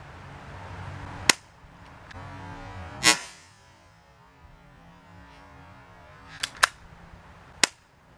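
Taurus Millenium PT-111 airsoft pistol fired outdoors at a white planter: five sharp, loud snapping shots spaced irregularly, two close together near the end, over a low ambient hum.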